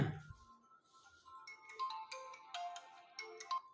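A phone ringtone plays as a quiet melodic electronic tune of bright repeating notes, rising over several seconds, with a brief low bump at the very start and no voices.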